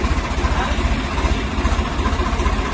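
A tractor engine idling close by in a field, a loud steady low diesel chug with an even pulsing rhythm and no talk over it.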